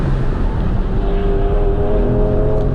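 A Mercedes AMG GT R engine drones steadily on a race track, loud and close, with a sustained engine tone and strong low rumble throughout.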